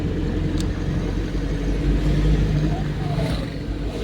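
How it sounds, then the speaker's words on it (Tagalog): Road traffic on a rainy day in Malico, Nueva Vizcaya, a loud continuous rumble of vehicles rolling past close by, with engine noise swelling and fading and no talking. "Daming sasakyan, no?"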